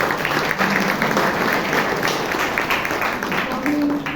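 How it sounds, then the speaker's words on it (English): Clapping from an audience at a Toastmasters club meeting, a continuous wash of many hands applauding at moderate level, with some talk faintly mixed in underneath. "good round of applause"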